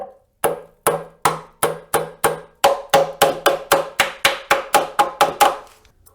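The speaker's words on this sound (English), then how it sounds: "Starter's doing nothing, so let's give it the old hammer treatment." A 12-ounce hammer strikes a car starter motor that won't engage, about fifteen sharp metallic blows at a steady, quickening pace, close and loud with ringing decay and no talk.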